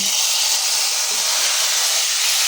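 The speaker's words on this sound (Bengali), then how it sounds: "এখন এই যে ভাজার তেলের ভিতরে আমি কিছু বেটে রাখছি" Shrimp fritters sizzling in hot oil in a pan, a steady close hiss of frying that holds even and continuous throughout, with no talk over it.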